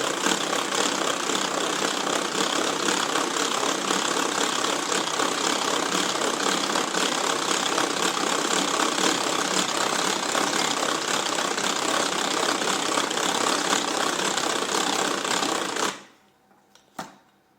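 An electric hand mixer runs steadily on speed 1, its beaters whipping egg whites in a bowl with a loud continuous whir for about sixteen seconds before cutting off abruptly, leaving a short quiet tail with a small clink.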